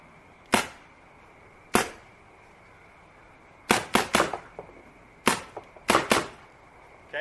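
Planet Eclipse LVR paintball marker set to 10.2, firing sharp, loud shots: two spaced single pops, then quick bursts of three and four, with no talking.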